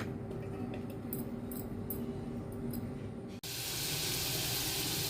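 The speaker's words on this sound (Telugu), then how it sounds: "ఒక చెట్టు తీసుకొని దానిలో నూనె వేసి మినపప్పు, ఆవాలు, జీలకర్ర, ఉల్లిపాయ, పచ్చిమిర్చి, ఎండుమిర్చి వేసాను" A tempering of urad dal, mustard seeds, cumin, onion, and green and dried red chillies in hot oil: a low, steady hiss that jumps abruptly into a louder, brighter sizzle partway through.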